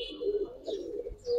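Giribaz and colour pigeons cooing in a loft, soft repeated low coos close by, with a couple of brief higher chirps and no talk.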